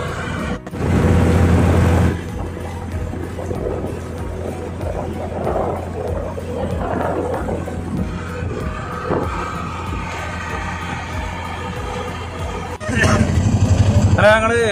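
Ferry boat in Kochi heading to Fort Kochi jetty, a low rumbling engine drone running throughout, louder at the start and again near the end, with background voices and passenger chatter on board.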